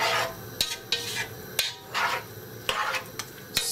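Beans stirred in a pot for a Surinamese dish, a series of close, rough scraping strokes with a few sharp knocks of the spoon against the pot between them, and no voices.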